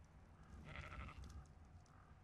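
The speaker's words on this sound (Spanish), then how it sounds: "la cabra ha hecho ruido y se ha apagado el generador" A goat in the video game ARK: Survival Evolved gives a short bleat, a faint nasal call lasting about half a second over low, steady game background hum.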